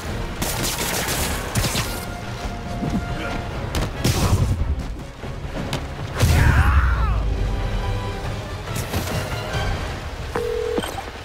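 Gunfire crackles in bursts and single shots during a Spider-Man Remastered video game fight, with sharp impacts and crashes mixed into a busy, loud game soundscape.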